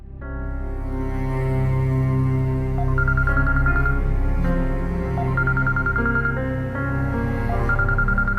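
A phone ringing in a home with an electronic tone that repeats steadily, loud and close, over a low background hum, with no talk during the ring.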